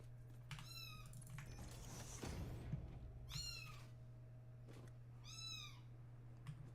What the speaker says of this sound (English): Big meow.